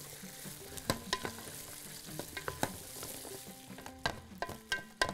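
Carrots sizzle and crackle in hot oil in a pan, with irregular pops and scraping stirs punctuating a steady frying hiss, fairly quiet and with no talking.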